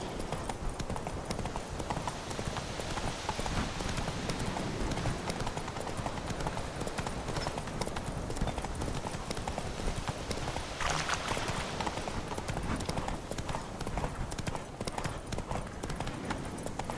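The horse Roach trots steadily in The Witcher 3, with continuous, fairly loud clip-clop hoofbeats lasting the whole stretch over a dense outdoor ambience.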